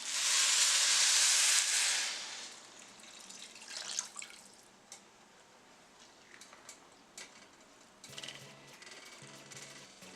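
Liquid is poured into a pan of spinach, giving a loud hissing splash for about two seconds, then quieter sizzling, clinks and stirring that continue close by.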